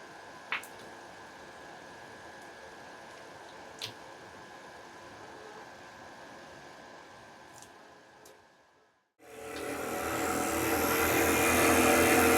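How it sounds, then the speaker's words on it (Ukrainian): A beekeeper's honey extractor spinning its first load of honey frames: after about nine seconds of near quiet, a loud whirring, rushing drone starts abruptly and builds steadily as the drum spins up, with no talk over it. "Ось так працює медугонка в нас."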